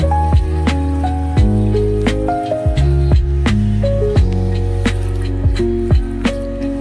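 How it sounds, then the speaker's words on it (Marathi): Sprouted moth beans swish and slosh in water as they are rinsed by hand, with close watery splashes and dripping in a rapid, uneven rhythm. "दोन तीन चार पाण्याने धुवायचं"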